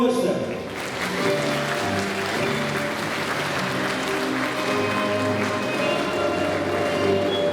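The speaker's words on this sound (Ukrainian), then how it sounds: "Аплодуємо" An audience at a sports awards ceremony honouring a women's futsal league applauds steadily, the clapping running under background music and a voice throughout.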